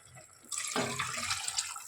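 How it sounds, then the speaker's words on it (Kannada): Water is poured into a cooking pot for fried-masala vegetable pulao, starting abruptly after a brief quiet and splashing steadily with a bright, close gush. "ಎಷ್ಟು ಬೇಕೋ ಅಷ್ಟು ನೀರು ಹಾಕ್ಕೊಂಡಿದ್ದೀನಿ ನಾನು"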